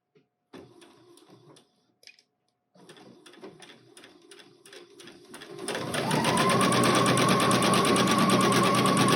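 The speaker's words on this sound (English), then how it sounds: "now we'll sew the casing down" A sewing machine stitches down the elastic casing on an African-style dress. It starts with short, stop-start bursts of close mechanical rattling, then runs into one long, steady, loud stretch of fast stitching.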